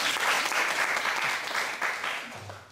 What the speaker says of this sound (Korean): 박수 치려봐야지